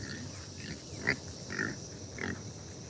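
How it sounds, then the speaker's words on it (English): A small pig on a farm field gives three or four short, low grunts spaced about half a second apart, fairly close against a quiet outdoor background. "Well, there's a little pig. See the pig?"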